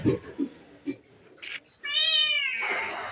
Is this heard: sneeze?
no